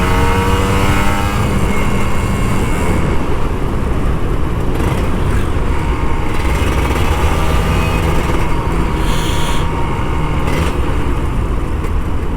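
An older Kawasaki Ninja RR 150 motorcycle is throttled up on a night ride, its two-stroke engine revving hard and close, then settling into a loud, steady road-and-wind roar.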